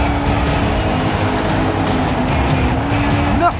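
An animated race car accelerates hard on the last lap of a dirt-track race, its engine a loud, steady roar up close, with faint tire noise and a brief rising whine near the end.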